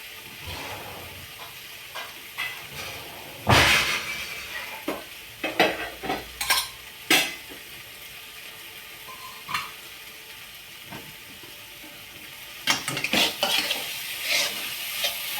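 Pimpal and banana vegetable being stirred and fried in oil in a pan, a soft background sizzle broken by irregular scraping and clinking of the spatula against the pan in scattered bursts.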